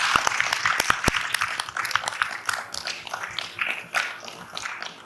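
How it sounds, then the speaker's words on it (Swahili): An audience at a political debate for the Msambweni by-election breaks into a burst of sharp, close handclaps, which thin out into softer, scattered clapping over a few seconds. "tuwapigeni makofi"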